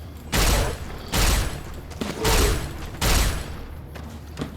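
Plasma rifle in the game Fallout: New Vegas fires four loud, broad energy blasts at a steady rhythm, each with a booming low thump and a bright sizzling tail, close and with no talk.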